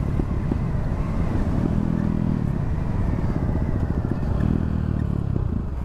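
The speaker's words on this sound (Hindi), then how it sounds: "चलिए इंजन ब्रेकिंग का यूज़ कर लेते हैं आप" A motorcycle engine-brakes down a steep slope on a mountain road in Himachal Pradesh, a loud, close, low throbbing drone that rises and eases in two swells, with wind rushing steadily over it.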